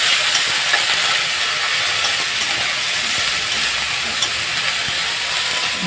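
Garlic and ginger paste fries in a pan for a spinach chicken dish, producing a loud, steady, hissing sizzle that continues evenly throughout with only faint scattered stirring ticks and no speech.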